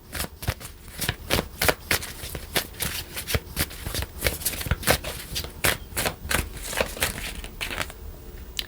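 Oracle cards shuffled by hand in a rapid, steady series of crisp riffling slaps and papery rustles, close and fairly loud, with no talking.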